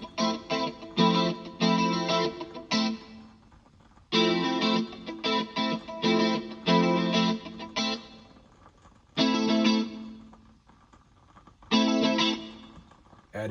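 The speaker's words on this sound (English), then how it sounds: "So also we have another additional guitar file in here, giving a way more rhythmic-y approach" Rhythmic electric guitar part processed with effects units, mixed as an extra layer in a song production, played in choppy strummed bursts with short gaps between phrases, loud and upfront with no talking.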